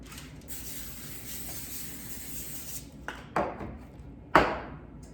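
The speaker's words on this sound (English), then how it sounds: "now I'm going to spray the tops of these." Cooking spray hisses onto the tops of food during a meal-prep session, a long steady spray followed by a few shorter close bursts and kitchen clatter.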